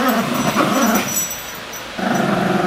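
Dogs growl and yip in rough play indoors, the snarling close and fairly loud, with a short lull before it picks up again.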